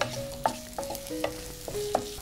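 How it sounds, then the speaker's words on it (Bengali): Whole spices (bay leaf, cardamom, cloves, cinnamon) and onion fry in mustard oil, a soft close sizzle broken by several sharp spoon clinks and scrapes against the pan. "30 সেকেন্ডের মতো এটা একটু ভেজে নিচ্ছি"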